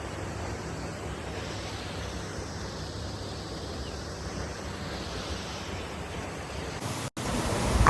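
A waterfall at Saputara runs with reduced dry-season flow, giving a steady, even rush of falling water mixed with some wind buffeting, with a sudden bump near the end.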